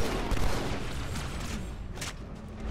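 Enemies shooting in the video game Halo 2, a continuous rattle of gunfire at moderate loudness, with a sharper burst near the end and no voices.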